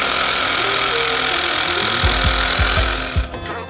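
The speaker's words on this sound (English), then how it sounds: "A driver also uses rotational impact. That's that loud noise you hear, meaning a great deal of torque is being applied, allowing you to drive long screws into difficult material." An impact driver drives a long screw into hard material, a loud continuous whining buzz overlaid with a series of sharp rapid hammering impacts, ending abruptly as the tool stops.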